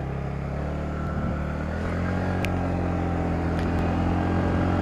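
A TVS NTORQ XT scooter running at full throttle in street mode, a loud continuous engine drone that holds steady and rises slightly, heard close up with wind rush and no talking.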